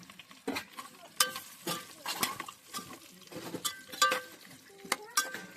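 Amla gooseberries are stirred into oil spiced with cumin, fennel and nigella in a pot, heard as repeated close clinks and scrapes of a utensil against metal over a faint sizzle.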